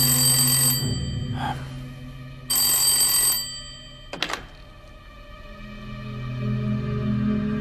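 An old-style telephone bell in a Sino-Japanese war film rings in two loud, clattering bursts separated by a pause, followed by a heavy thunk of the receiver being picked up, over a low background hum.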